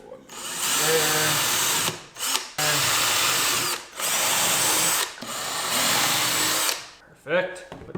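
A power drill bores screw holes in wood in several close, loud bursts, each a high whirring run of a second or two separated by short pauses, with a final brief burst at the end.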